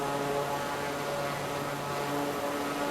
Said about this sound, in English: this is the Draco, so we can pump up the jam here on the engine